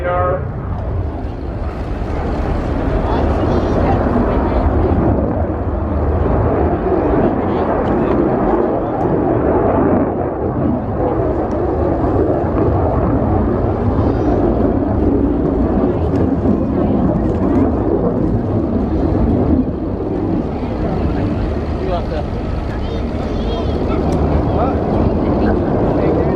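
A jet fighter makes a fast Mach 0.9 flypast at the RIAT air show: a continuous, loud, broad roar that rises and swells across the pass, with an announcer talking over it.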